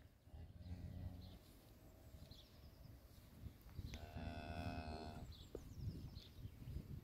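A cow moos near a newborn heifer calf born outdoors on a farm. One drawn-out, fairly distant moo comes midway through, over a low rustling background and faint bird calls.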